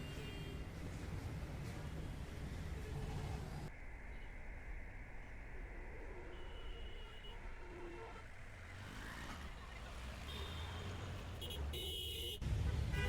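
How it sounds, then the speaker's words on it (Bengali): Traffic on the Dhaka–Sylhet highway at Debidwar, a steady roar of passing cars, trucks and buses with occasional horn toots, close and continuous with a sudden cut midway. "এই যে এখন আমরা ঢাকা সিলেট হাইওয়েতে উঠলাম।"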